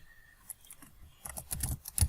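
Chalk or marker writing on a classroom board, a series of short faint taps and scratchy strokes that quicken and grow denser toward the end, close and quiet with no talk over them.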